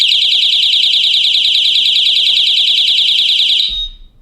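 A projection alarm clock's loud, piercing electronic alarm pulses rapidly and steadily for several seconds, then cuts off abruptly when disarmed, leaving near silence.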